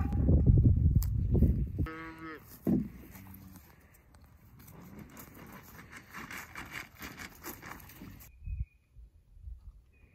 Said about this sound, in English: The cows say they've had enough.